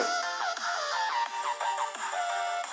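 A Redmi 9 smartphone's built-in speaker plays a tune of bright, swooping melodic notes in a quick repeating pattern, thin and somewhat dry, heard alone.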